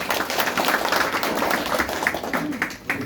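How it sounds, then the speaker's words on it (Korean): Applause from the audience at a Gwangsan Kim clan (Munsuk branch) Seoul gathering as an adviser is called to the stage, a dense steady clapping that sounds close and fills the whole stretch, with voices mixed in underneath. "큰 박수 부탁드립니다"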